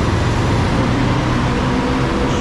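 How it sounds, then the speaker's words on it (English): Road traffic in Bangkok passes beneath an elevated walkway. It makes a dense, steady roar of engines and tyres from below, continuous and fairly loud, with no breaks. "You can hear the traffic below there."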